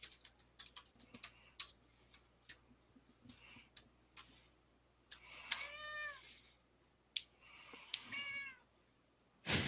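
A cat meows several times with rising, wavering cries, mixed with a long run of close computer keyboard typing and clicking in an otherwise quiet room.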